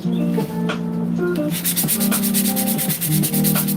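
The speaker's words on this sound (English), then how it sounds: "Sanding it down, getting it nice and smooth." Steady, gritty sanding on a hard, hollow dried gourd, with quick back-and-forth strokes that grow rhythmic and bright, over a faint musical background.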